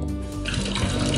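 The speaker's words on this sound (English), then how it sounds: "I'll turn the water on slow." Water runs from a garden hose onto soil as it is turned on slow, giving a steady, close rushing and splashing that swells in strength after the first half-second.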